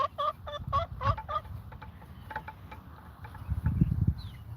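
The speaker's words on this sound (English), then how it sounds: "Turkeys." Domestic turkeys on a homestead clucking and calling in short clustered bursts near the listener, with scattered fowl chatter and low rustling throughout.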